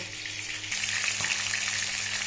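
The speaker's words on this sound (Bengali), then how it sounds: "এখন চিকেনগুলো ফ্রাই করে নেব" Chicken pieces frying in hot oil for a spicy chicken roast, a dense, continuous close sizzle that swells slightly partway through, with no talking.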